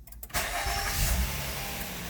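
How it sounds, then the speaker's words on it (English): A Honda Accord started with a push button: a brief starter crank, then the engine catches and settles into a steady, fairly loud idle close by, with no talk over it. "All right, guys, gonna start the car. I got a push button right there."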